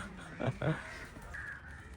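Crows caw twice in quick succession nearby outdoors, fairly faint, followed by quiet background ambience.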